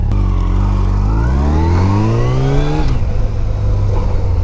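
A sport touring motorcycle engine revs hard and loud up close, pitch climbing steadily for nearly three seconds before dropping back to a rumbling idle.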